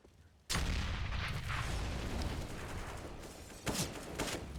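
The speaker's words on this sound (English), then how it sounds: "Nades going down in the banana." Grenades going off in the banana area of the Inferno map during a Counter-Strike match, a loud sustained burst of blasts and crackling debris with a second sharp blast near the end, no voices over it.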